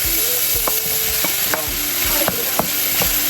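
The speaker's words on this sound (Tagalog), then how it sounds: "So, ilagay na natin yung talong." Eggplant tumbled into a hot frying pan and stirred, steady loud sizzle with a series of sharp scraping strokes of the utensil against the pan every half second or so.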